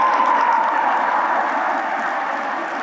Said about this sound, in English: How about a big round of applause for all the award winners?